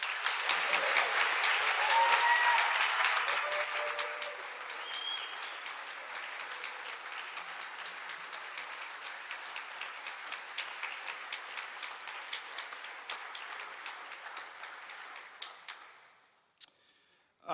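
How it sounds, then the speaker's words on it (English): Sustained applause in a state House chamber for the staff, a broad roomful of clapping that swells early, holds steadily, then fades out near the end. "I want to make sure that you give them significant applause because they do a great job."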